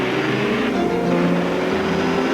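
Sports car engine, a turbocharged Porsche, revving steadily with a rising tonal drone and broadband roar, loud and continuous throughout with no talk.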